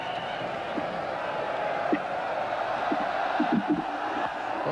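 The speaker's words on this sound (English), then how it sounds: "The crowd really egging him on." A cricket crowd at Eden Park keeps up a steady distant roar of cheering and encouragement, with scattered shouts and whoops poking out of the broad murmur.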